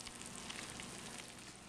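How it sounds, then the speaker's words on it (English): Eggplant Parmesan casserole sizzles faintly, a soft continuous crackle and hiss with no talking over it. "I can hear it sizzling."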